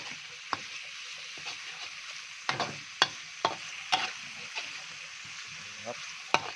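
Steady sizzling of pork frying in a wok for pad kaphrao, with irregular scraping and clacking strokes of a spatula stirring it.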